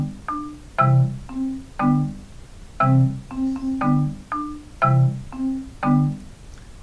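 Keyboard plays a melody on top with chords in the lower register, a series of distinct struck notes and chords in a moderate, even rhythm, clear and close with nothing else heard.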